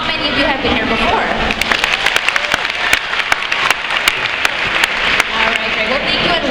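Audience members at a Shedd Aquarium show break into lively applause, with sharp individual claps standing out against a continuous crowd wash.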